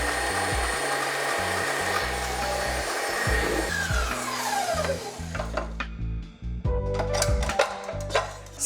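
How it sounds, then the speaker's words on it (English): Six egg whites beaten to very stiff peaks for a frozen chocolate mousse-style dessert, an electric mixer whirring steadily and close, its pitch shifting partway through, then rattling and scraping against the bowl near the end. "So let's beat the egg whites to a very stiff beat, like for mousse in a way."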